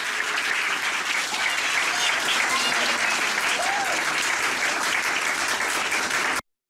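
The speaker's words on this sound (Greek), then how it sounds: "το κοινό την υποδέχτηκε με θερμό χειροκρότημα αλλά και συγκίνηση" Warm audience applause at a single line art show in Brussels, a dense, even roar of many hands clapping that holds steady and then cuts off abruptly.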